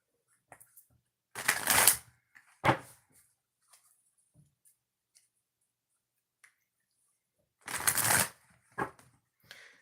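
Tarot cards riffled in two short bursts of shuffling, each a quick flurry of papery flutter followed by a sharp snap, with near silence and faint handling taps in between.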